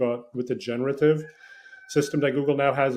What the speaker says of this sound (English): Can you hear the rooster in the background?